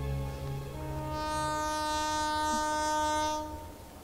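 A train horn blows one long, loud, steady tonal blast that swells and then fades, with a low rumble of the train underneath and no talk.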